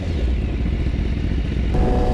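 A BMW S1000RR sport motorcycle with a Van Diemen aftermarket exhaust roars nearby, deep and rumbling, with a brief rev near the end.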